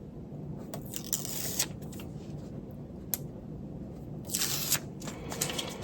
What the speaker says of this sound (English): I'm going to simply peel the backing off of this tape in 3 spots.